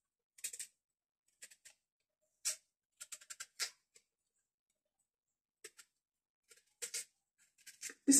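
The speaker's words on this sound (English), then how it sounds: "So I'm just peeling." Short dry scraping and crackling bursts from peeling food by hand at home, coming in irregular clusters with quiet gaps, close and fairly soft.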